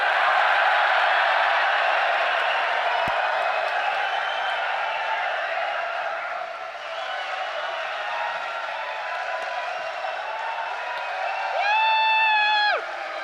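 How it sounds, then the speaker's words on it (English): A live audience at a livestreamed football podcast show cheers and applauds, a dense, steady wash of clapping and whooping that holds loud throughout, with a brief whistle-like tone near the end. "then you're going to cheer like it is just a wonderful moment of ecstasy"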